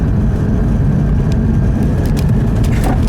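A 2000 Chevrolet Corvette Convertible takes a tight corner, with a steady, even engine and road drone heard from inside the car and no clear revving.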